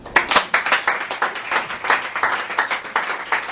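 A church congregation at a Sunday service claps in a steady, lively rhythm, with many hands making dense, close applause throughout and no clear speech.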